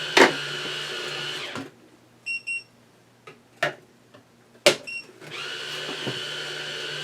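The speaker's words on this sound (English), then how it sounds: "Alright, the auger's running," A Zippy cordless juicer's auger whirs in loud motor bursts at the start and end, separated by a quieter stretch of clicks, short beeps and sharp knocks.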